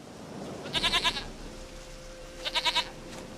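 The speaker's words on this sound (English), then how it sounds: "Goat of mine, dearest, sweetest goat." A goat in The Witcher 3 lets out two short, quavering bleats about two seconds apart. Both are close and clear over a quiet background with no talking.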